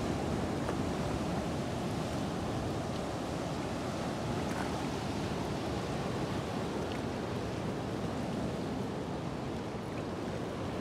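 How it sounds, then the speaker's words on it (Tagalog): Steady, broad wash of sea waves on a shore, continuous and moderately loud with no voices. "Dito po yung tabi ng dagat,"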